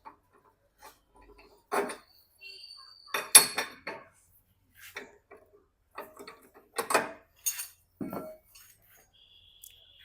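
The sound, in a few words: opening scooter handle bolt with tools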